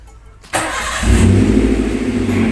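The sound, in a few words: Toyota Avanza engine started with starter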